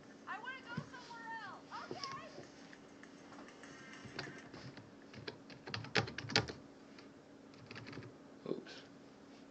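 Keys tapped on a keyboard in irregular bursts, moderately close, with a person speaking briefly between and over the typing.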